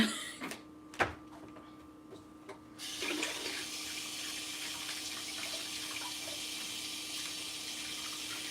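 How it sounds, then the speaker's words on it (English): Tap water runs steadily into a sink as hands are washed, starting after a few clunks and clicks and continuing as a close, even rush. "I need to wash my hands."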